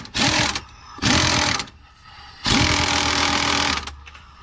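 An old, tired Craftsman impact wrench hammers in three bursts of about half a second, half a second and a second and a half, loud and close, with short quiet gaps during a Chrysler Concorde front strut job.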